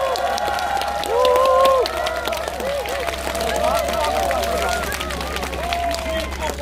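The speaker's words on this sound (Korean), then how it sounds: "박수 한번 주십시오." An audience applauds at a Korean public event after guests are introduced, a burst of clapping and crowd murmur under a sustained tone, with voices speaking over the hall noise.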